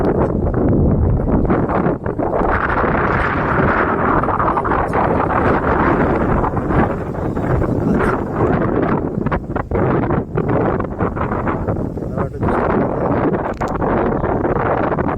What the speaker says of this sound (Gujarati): પવન સંભળાતો હશે, મારો અવાજ તો નહીં સંભળાતો ભાઈ. પવન જ એટલો બધો છે.